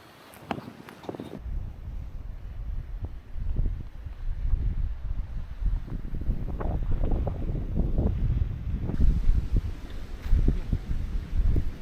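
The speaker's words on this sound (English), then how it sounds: "probably far too windy" Strong wind buffets the microphone by a lake shore, a steady low roar with gusts that swell and fade throughout, with no voices heard.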